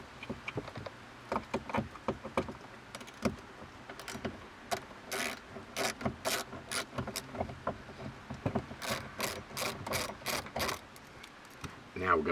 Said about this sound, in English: we're going to remove this screw as well.